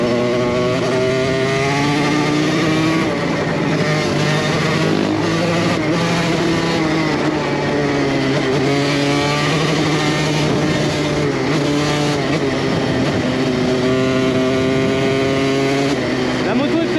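Motocross motorcycle engine running steadily at close range, a loud continuous buzzing drone with shifting pitch as the throttle varies, outdoors at an off-road riding spot.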